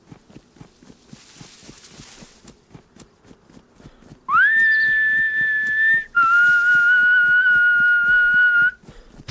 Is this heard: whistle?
yes